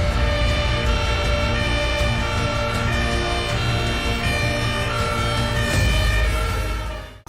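Electronic siren of a toy fire truck, a loud, steady wailing tone close by that runs the whole time and cuts off at the end, with no talking.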